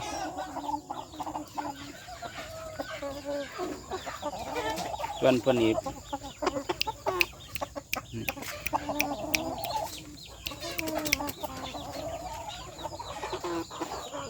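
Young roosters on a home farm during the rainy season cluck and crow in scattered bursts, fairly close, with someone talking over them through much of the stretch.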